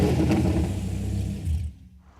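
A car engine revs hard with a loud, full roar for about a second and a half, then quickly cuts off and fades to near silence.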